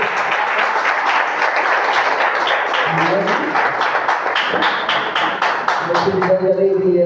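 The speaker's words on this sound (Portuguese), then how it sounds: "Palmas para o Senhor." A church congregation clapping in praise during a Portuguese-language service. Loud, sustained crowd clapping is joined by voices and tonal sounds rising under it toward the end.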